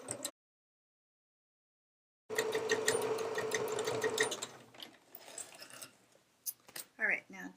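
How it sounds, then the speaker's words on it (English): A sewing machine stitches the side and base seam of a hip bag at a 5/8 inch allowance, running in a steady, rapid whir for a couple of seconds after a silent pause, then slowing into softer handling noises. "We're going to stitch down the side, across the base, and back up the side."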